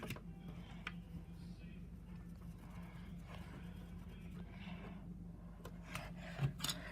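A Q-tip soaked in 91% rubbing alcohol scrubs the contacts of a WaveBird controller, giving faint, close scratchy rubbing strokes with a few small taps.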